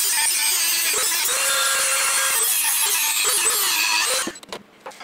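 Hand sawing through metal pins on a drilling jig block clamped in a vise, a continuous rasping cut with rhythmic strokes that stops near the end.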